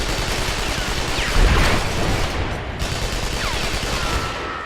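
Continuous rapid gunfire from an unlimited-ammo ranged weapon in the video game Hellgate London, a dense, loud, steady rattle with no pauses.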